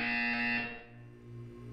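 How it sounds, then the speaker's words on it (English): A steady electronic buzzer from the Portal 2 video game sounds loud and continuous, a harsh sustained tone that fades in level partway through and holds on. "You will hear a buzzer."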